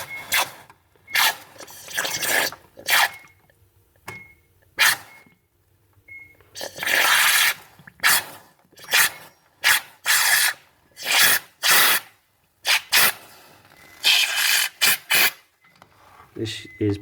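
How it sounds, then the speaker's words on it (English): Short bursts from an air compressor nozzle blasting into a clogged Samsung fridge fan, a series of loud hissing blasts of varying length separated by brief pauses, close up with no talking. "I've got an air compressor with a nozzle. I'm just going to give this a few short bursts."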